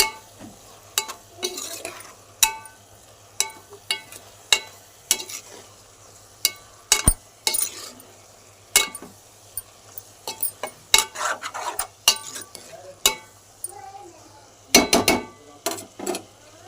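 Broad bean and tomato curry stirred in a pan with a utensil, producing repeated scraping clanks against the metal and a soft sizzle, in uneven bursts with no talk.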